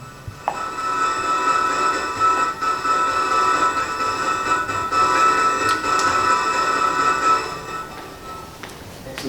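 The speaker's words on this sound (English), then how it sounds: "The left is going to do amplitude modulation, but of a static sound" A static granular electronic sound is amplitude-modulated in a live electronic music setting, a dense buzzing texture with steady tonal partials that swells and dips in loudness while holding its pitch.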